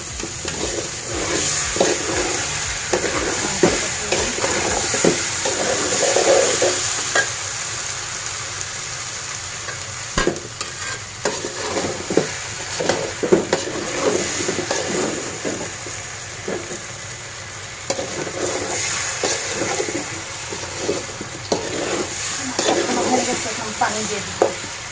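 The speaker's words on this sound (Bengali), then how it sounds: "ভালো করে মিক্স করে নিব।" Beef khichuri is stirred in a frying pot, with repeated scraping and clattering strokes over a steady background sizzle that runs throughout at close range.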